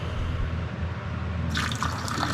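Water begins flowing from a tap on a sailboat's freshwater system just after the pressure pump is switched on, a hissing broadband rush starting abruptly partway through and continuing steadily over a low pump hum.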